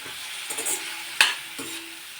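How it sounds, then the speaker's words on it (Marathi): Chopped ridge gourd with lentils being stirred into a hot spiced tempering, giving a steady broadband sizzle with a few scraping stirs and one sharper clatter midway, close and fairly loud, no talking. "या फोडणीमध्ये छान असा हा मिक्स करून घ्यायचा"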